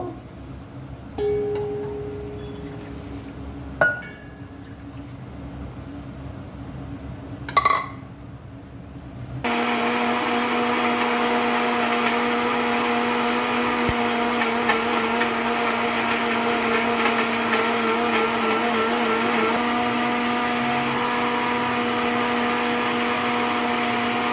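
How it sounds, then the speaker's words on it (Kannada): A kitchen mixer grinder runs steadily, grinding grated coconut with turmeric into a smooth masala for a mathi and ada fish curry; a few light clinks come first, then the motor starts and whirs loudly and continuously. "ಆಮೇಲೆ ತುರ್ದಿಟ್ಟ ಕಾಯಿ ಹಾಕೋಣ ಇದನ್ನು ಅಷ್ಟೇ ನುಣ್ಣಗೆ ರುಬ್ಬಬೇಕು"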